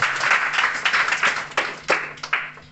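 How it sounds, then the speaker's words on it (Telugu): An audience at a church meeting claps together in a brief, dense burst of applause that thins into a few scattered claps. "అందరు చప్పట్లు కొడతామా"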